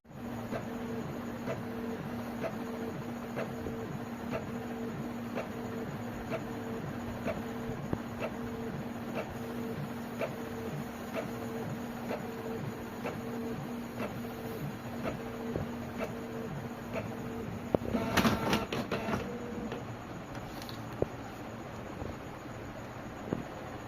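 A Canon inkjet printer printing, a faint, steady mechanical whir with regular ticking pulses of the moving print head, ending in a brief louder burst of paper-feed noise near the end and no talk.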